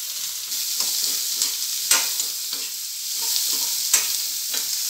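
Curry leaves, garlic and onion frying in a hot pan for capsicum curry: a bright, loud, continuous sizzle with regular scraping stirs recurring about once a second, no talk.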